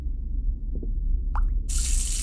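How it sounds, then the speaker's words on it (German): Water dripping in the Ghost Watchers ghost-hunting game, a couple of faint drips over a low hum, then a louder splashing drip and a sudden hiss of running liquid at the end. "Hier tropft irgendwas."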